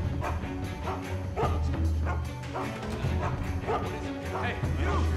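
A dog in the stealth video game Mark of the Ninja barks and yips repeatedly in quick bursts, fairly close, mixed with game sounds and a voice talking over it.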